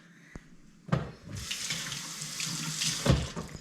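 A kitchen tap is turned on while bread dough is being made and runs in a steady close splashing stream for a few seconds. There are a couple of handling knocks near the start and end.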